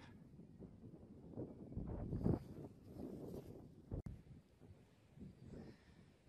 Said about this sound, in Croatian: Tu stalno puše, tak da idemo.